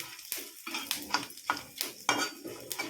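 Cumin seeds frying in a pan for a prawn gravy, with a utensil scraping and clinking against the pan in quick irregular strokes over a faint sizzle.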